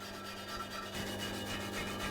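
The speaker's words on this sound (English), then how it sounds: "Now is also a good time to get a wire brush and just clean the old deposits of rubber" A wire brush scrubs old rubber deposits off a car wheel rim during a tyre change, giving a close, steady, gritty scratching that runs without a break and with no voices.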